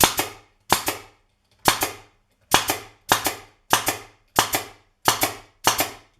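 A staple gun firing staples to fix a band onto a hurley, nine sharp, loud, close snaps spaced roughly evenly apart with silence between them.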